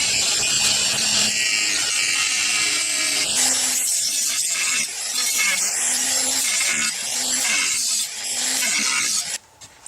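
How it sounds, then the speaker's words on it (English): A Dremel rotary tool's cutoff wheel slices around the taped top of a bowling ball plug in a homemade pro shop setup, giving a loud, continuous gritty whine that rises and dips in short passes for about ten seconds, with no talking. "I'm going to use a Dremel tool cutoff wheel and cut right around the top of the tape"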